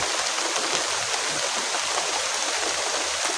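Heavy rain pours steadily, a dense close hiss of water with no pauses and no voices over it.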